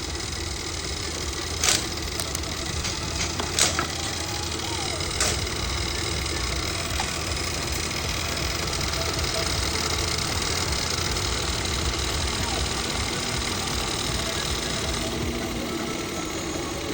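A Volvo S60 engine idles steadily at close range, a continuous mid-range hum with a few brief clicks early on and no talk over it.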